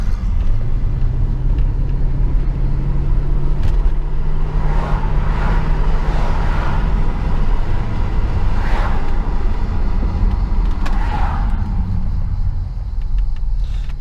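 Engine of a heavy Mercedes W220 sedan running while driving, a steady low rumble with a droning hum and road noise heard from inside the cabin, fairly loud and constant.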